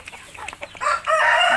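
Indio Gigante breeder hens, teenage birds kept free-range while being fed, cluck in short bursts and then give a loud, sustained crow close by.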